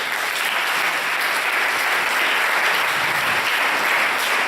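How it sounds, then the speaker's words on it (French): A church congregation applauds and cheers God in a dense, steady wave of clapping that fills the room at an even level from start to finish. "Est-ce que tu peux acclamer Dieu?"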